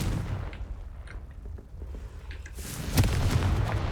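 A Confringo fire spell blasts in the Hogwarts Legacy video game, a booming explosion that swells near the end over a low rumbling game backdrop, with no talking.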